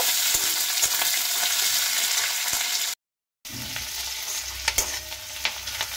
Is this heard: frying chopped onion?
yes